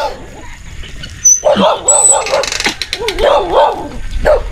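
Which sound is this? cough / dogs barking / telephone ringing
dogs barking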